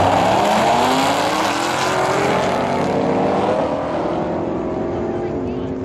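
A 2016 Volkswagen Golf R with DSG gearbox and APR Stage 2 tune accelerating down a drag strip at high elevation, a loud continuous engine roar rising in pitch with gear shifts, fading slightly as it pulls away.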